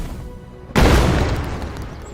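A spell explodes in Mortal Online 2 with a sudden loud boom after a quiet moment, followed by a long rumbling, crackling decay, with no voices.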